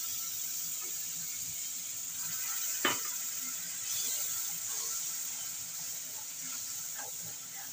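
Chilli powder spice mix frying in a pan for a chicken curry as water is added, a soft continuous sizzle and hiss with one brief sharp clink partway through.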